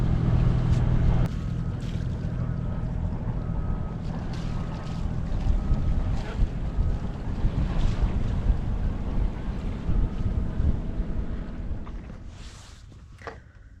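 A sailboat heads out into a channel under sail in light wind, with steady wind buffeting the microphone, water washing along the hull and a few faint creaks and knocks on board.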